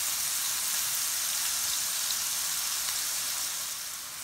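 Pork frying in a pan for fried rice gives a steady, even sizzle and hiss, close and continuous, with no talk over it.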